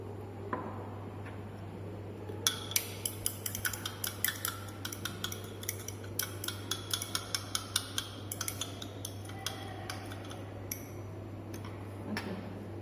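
Glassware rings with rapid, sharp clinks and ticks as two chemical solutions are stirred and mixed for a school chemistry practical on preparing Mohr's salt or potash alum, set over a steady low electrical hum.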